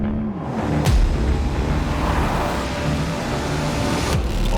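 A new Porsche Taycan electric car drives with its push-to-pass boost engaged, giving a steady low road and motor rumble from inside the cabin with a faint whine and a couple of brief clicks.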